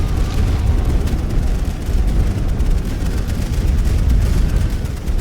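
Mortar shells bursting in a World War I battle in The Great War: Western Front, a dense, continuous low rumble of overlapping distant explosions with no clear gaps.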